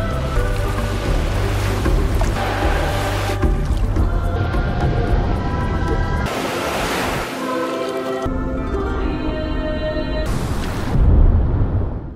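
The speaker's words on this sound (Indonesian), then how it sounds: "Sampailah mereka di lokasi pantai dengan ombak besar-besar yang selama ini mereka cari." Big ocean waves break and wash along a surf beach, a loud continuous roar of surf with deep rumbling swells rising and falling, heard alone without voices.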